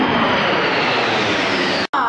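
Baltic Bees jet team aircraft flying past in formation at an air show, a loud continuous broadband jet roar that fills the whole clip, with a brief cutout near the end.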